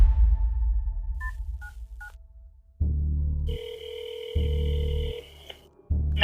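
A phone dials 911 with three short keypad tones, then a call connects with a low buzzing ring tone that pulses in long bursts and a higher electronic tone, with no voices.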